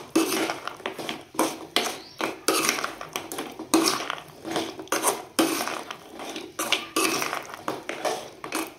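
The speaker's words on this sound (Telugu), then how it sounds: "ఈ బాల్స్ అన్ని ఇందులో వేసేసి మొత్తం ఒకసారి కలుపుకుందాం" Jaggery-coated balls being stirred in a pan on the stove make repeated scraping and clattering strokes, loud and close, in an uneven rhythm with brief pauses between turns.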